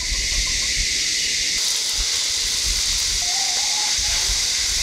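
Tofu coated in beaten egg fries in hot oil in a wok, producing a loud, steady hiss and sizzle that runs through the whole clip without speech.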